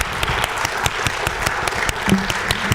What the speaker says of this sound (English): Can we please give our guest speaker a round of applause?